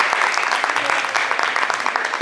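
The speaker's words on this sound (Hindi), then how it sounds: "धनराज भैया के लिए जोरदार ताली।" Loud, dense applause from a theatre audience at a stage play, steady clapping filling the whole moment for the lighting director.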